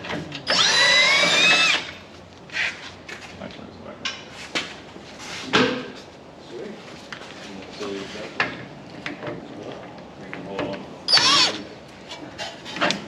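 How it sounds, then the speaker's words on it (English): Impact wrench rattles loose a front shock bolt during a Bilstein 5100 suspension install, sounding as a loud, close two-second burst near the start and a shorter burst later, with scattered tool clanks and handling noise between. "Always want to break it loose first, and then you can use your impact to finally screw it off."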